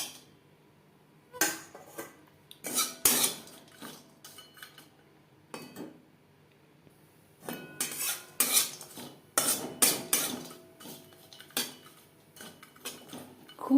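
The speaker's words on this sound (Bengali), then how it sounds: "তিন চার মিনিট লো টু মিডিয়াম ফ্লেমে নাড়াচাড়া করে নেব" Cashews, raisins and almonds are stirred in ghee in a wok for lachha semai, with bursts of metal spatula scraping and clinking against the pan in irregular clusters, close and fairly loud, separated by quiet pauses, no voices.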